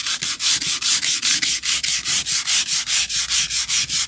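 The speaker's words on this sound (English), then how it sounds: "And I'm sanding lightly because I don't want to sand through the whole thing" Hand sanding lightly over layered paint on an Easter decoration, about twenty steady back-and-forth rasping strokes in an even rhythm, close and loud with no voices.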